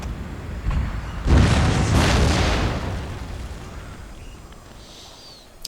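Artillery suppression fire in the Total War: Shogun 2 Fall of the Samurai game lands as a deep, rolling booming blast with a long rumbling decay fading away afterward.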